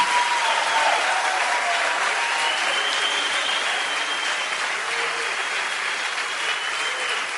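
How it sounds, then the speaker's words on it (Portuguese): Church congregation giving a round of applause for Jesus during a sermon, a long, steady roar of many hands clapping that holds evenly throughout, with faint sustained music underneath. "Vamos dar uma salva de palmas para ele."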